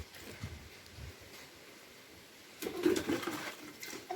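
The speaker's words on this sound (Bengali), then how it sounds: "এবার জবা গাছে জল দাও।" Water poured onto a hibiscus plant outdoors, a soft splashing rush that begins partway through and continues to the end, fairly faint and close, with no talking.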